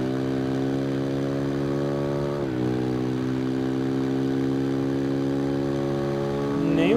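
A KTM Duke 690 motorcycle engine in the racing game Ride 2 drones loudly and steadily, dips briefly at a gear change, then climbs into a rising rev at the end.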